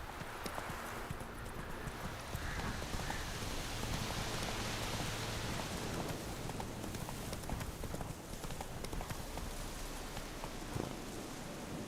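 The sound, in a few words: horse Roach galloping in rain, from the video game The Witcher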